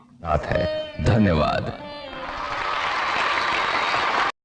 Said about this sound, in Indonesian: seluruh undangan yang hadir di situ pun memberikan tepuk tangan meriah